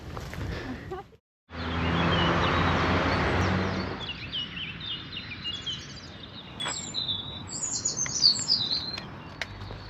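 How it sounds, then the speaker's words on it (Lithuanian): Morning birdsong in the small town of Obernai, France: after a brief rushing burst of noise, scattered high chirps and tweets sound at moderate distance, faint and intermittent against quiet outdoor background. "Paukščiai čiulba,"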